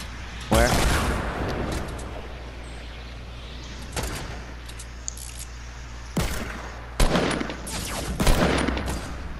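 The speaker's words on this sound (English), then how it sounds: "I just got sniped." Sniper rifle shots ring out in the Fortnite video game, about five sharp, loud cracks spaced irregularly across the span, each with a short ringing tail, while players talk over them.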